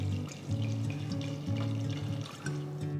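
Water poured onto soaked chickpeas in a pressure cooker, a close, steady trickling and splashing stream with small bubbling variations, heard alone without talk.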